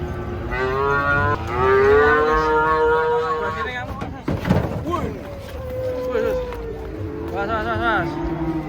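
Many cattle moo repeatedly, some long and loud, as they are unloaded from a truck in a busy crowded setting, with people talking throughout.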